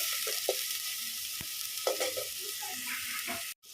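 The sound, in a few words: stirring spices in a clay pot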